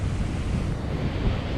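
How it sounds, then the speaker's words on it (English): Ocean waves break on the coast at night, heard as a steady, dense roar of surf with low rumble and wind buffeting the microphone, loud and continuous with no voices. "we enjoy the waves and the noise of the waves during the night"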